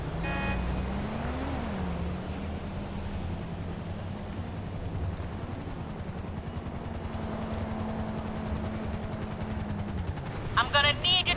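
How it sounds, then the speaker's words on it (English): Luxury helicopter arriving in GTA5 Online, its rotor and engine drone holding steady and loud throughout, with pitch shifting as it maneuvers near the end. "Request a luxury helicopter."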